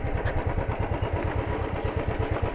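Motorcycle engine running steadily with a low, rhythmic thumping while riding a small trail toward a waterfall picnic spot, loud and continuous with no talk.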